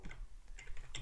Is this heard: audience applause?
no